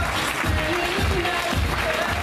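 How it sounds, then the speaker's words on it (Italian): An audience at a dance gala applauds steadily for the full stretch, a dense, even wash of clapping with a faint tonal hum beneath. "Ancora un grande applauso."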